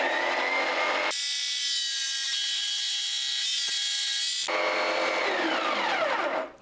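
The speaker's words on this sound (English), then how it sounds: "Let's go over to the jigsaw." A jigsaw rips a wooden board along a set fence, cutting in one loud, steady burst of harsh, buzzing saw noise that starts abruptly and stops a few seconds later.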